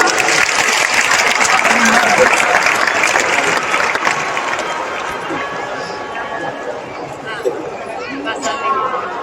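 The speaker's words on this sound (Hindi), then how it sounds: "एक बार जोरदार तालियां।" A large audience at a Shiv Puran katha in Sejbahar, Raipur, breaks into loud, sustained applause, mixed with crowd chatter, continuing for about nine seconds.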